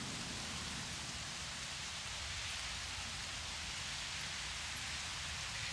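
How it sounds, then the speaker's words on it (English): Rain in the Jurassic World Evolution park game, a dense, even hiss of falling rain pattering steadily on surfaces, constant and fairly loud with no other sounds. "And it's raining already."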